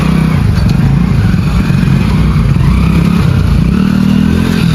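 A loud motorcycle engine drones steadily up close, with a rough rumble and faint clattering throughout.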